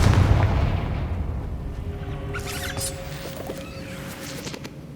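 A deep booming blast from the Confringo fire spell in Hogwarts Legacy opens loud and low, then fades into a rumbling tail with faint magical chimes and tones over the decay.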